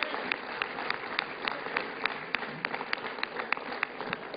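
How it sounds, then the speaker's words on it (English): Crowd applause at a South Carolina primary night political speech, a steady roar of clapping with sharper individual claps throughout, moderately loud and filling the whole stretch without clear talk. "And to Newt Gingrich, let's give him a big round of applause for standing in there and fighting."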